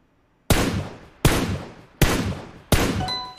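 A Thompson SMG fires in PUBG Mobile: four loud, sharp shots at an even spacing, each with a decaying echo tail, followed by a faint metallic ring after the last one.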